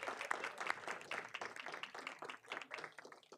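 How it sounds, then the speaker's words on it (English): Round of applause from people gathered at a university board of trustees meeting, a steady burst of many hands clapping at moderate distance, holding evenly for a few seconds. "let's give him a round of applause"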